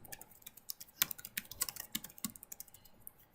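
A password is typed on a computer keyboard as a close, quiet burst of quick, irregular keystrokes with a few sharper clicks, with no talking.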